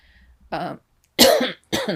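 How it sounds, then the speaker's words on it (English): Three separate coughs, with short pauses between them, close and fairly loud. "Speaking of coughing, excuse me. It's a sympathetic cough."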